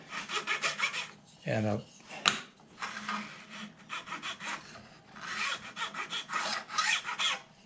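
A hand file rasping back and forth across a guitar fretboard to remove excess wenge filler, steady close scraping strokes with a brief pause and a single spoken word.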